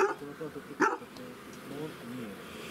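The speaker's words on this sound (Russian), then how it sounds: "Ой, собачка какая красивая." A dog at a beekeeper's apiary in Moldova gives a few short barks and yips close by, with people talking over and around them.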